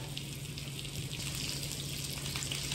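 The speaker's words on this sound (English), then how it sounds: "you don't need to sit here and watch a piece of meat sort of get seared" Pork tenderloin sears in a hot pan with a soft, steady sizzle and crackle, faint and continuous under a low background hum.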